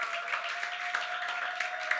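A church audience claps after a presentation, a fairly faint, even patter of many hands with a steady high tone running underneath throughout.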